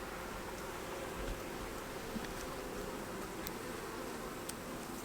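Honeybees buzz around hive brood boxes just after a rain shower, forming a constant close hum of many insects with faint rustles and occasional ticks.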